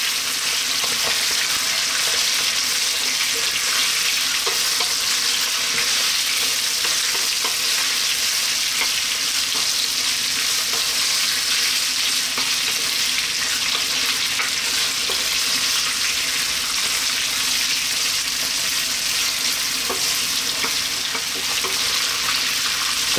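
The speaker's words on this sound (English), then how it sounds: "we're going to drop in all our mutton into the mix. And we're going to go for about 6 or 7 minutes on a fairly lively heat" Mutton pieces frying in a pan on a fairly lively heat for an Indian mutton curry, a loud, steady, unbroken sizzle that holds evenly throughout with faint scraping of stirring.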